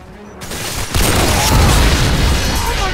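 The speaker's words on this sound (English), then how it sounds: "Friendly Predator missile inbound." A Predator missile explodes in Modern Warfare 2 multiplayer, a sudden heavy boom swelling into a sustained loud rumble that lingers and rolls on for a couple of seconds, with no talk over it.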